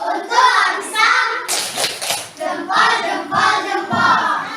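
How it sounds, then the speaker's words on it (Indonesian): Children in a classroom clap their hands together in a rhythmic group pattern, loud bursts repeating several times with a brief noisy pause in the middle. "Oke, tepuk tangan dulu."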